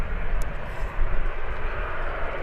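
A Ryanair passenger jet departs Birmingham Airport, a steady, loud broadband engine roar close by that holds through the whole stretch with a slight swell midway.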